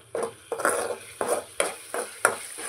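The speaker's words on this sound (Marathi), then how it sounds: "हे सगळं व्यवस्थित भाजून घ्यायचं आहे।" Okra masala with salt is stirred in a pan, a spoon scraping and clinking against the metal in a steady rhythm of about seven strokes over a soft sizzle.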